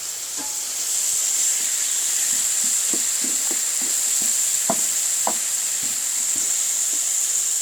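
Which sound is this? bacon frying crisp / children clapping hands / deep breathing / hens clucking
bacon frying crisp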